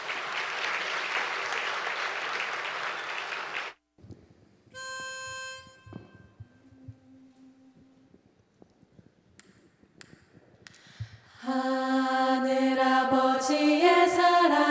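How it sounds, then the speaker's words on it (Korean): A university presidential inauguration audience claps warmly for about four seconds, a dense steady patter that cuts off abruptly. Quiet stage sounds and tones follow, then singing begins. "우리 따뜻한 박수 부탁드리겠습니다"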